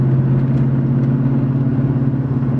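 A modified, nitrous-equipped car engine rumbles steadily and loudly nearby, with a deep, even drone and no voices over it.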